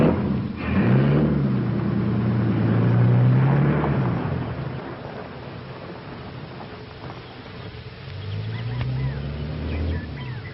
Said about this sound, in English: Well, he's driving back to town.